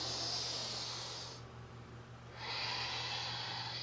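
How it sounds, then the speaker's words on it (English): A slow yoga exhale, a steady breathy hiss through the nose or mouth lasting over a second, fading to a pause and then a fresh breath, close and alone over a low background hum. "Exhale."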